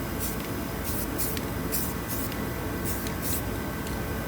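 Spray paint hissing in short, repeated bursts as a light first coat goes onto an 18-inch Chrysler 300C wheel rim during refurbishing, close and steady over a constant background noise.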